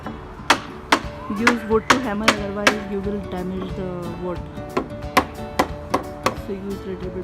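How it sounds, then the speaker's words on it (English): A hammer drives a wooden bottom rail for a DIY privacy wall, struck through a wooden block, giving a dozen or so sharp knocks in an uneven rhythm, close and loud, with a voice in the background. "Use wood to hammer, otherwise you will damage the wood."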